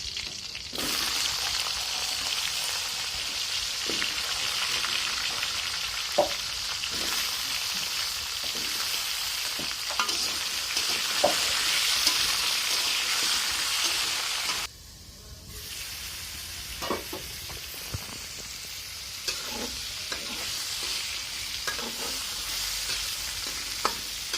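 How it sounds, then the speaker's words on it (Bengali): Pointed gourd (potol) slices fry in hot oil with a continuous crackling hiss and repeated stirring clicks. The sizzle briefly drops in level partway through, then carries on. "তারপরে আমি পটলগুলোকে ভেজে নেব।"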